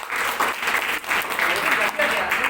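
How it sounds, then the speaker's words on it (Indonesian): Audience clapping steadily for Sarah at an event, a dense continuous patter of many hands with brief dips, some voices mixed in. "Kasih tepuk tangan dong."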